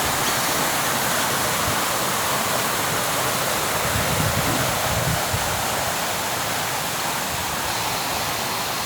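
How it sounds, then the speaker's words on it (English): Small streams running through a botanic garden at Benowa, a continuous broad rushing and gurgling of water, close and steady throughout. "Beautiful little streams through here."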